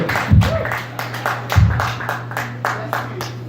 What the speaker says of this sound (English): Can I get a round of applause for all the people who have gone up tonight so far?